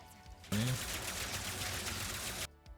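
Loud burst of dense, clattering game combat noise during a video game boss fight against the Seekerpede, with rapid gunfire-like blasts and rumbling impacts that cut in abruptly and stop after about two seconds.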